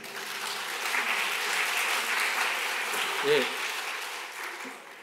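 Applause from a church congregation during a Sunday service, a steady wash of clapping that holds evenly across the whole stretch with a voice briefly audible near the middle.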